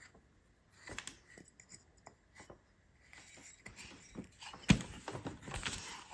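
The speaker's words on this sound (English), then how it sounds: "I'm just going to trim them down a little" Small snips and clicks come from trimming the legs of a fused glass cat bobblehead, faint close cutting sounds with one sharper snap near the end.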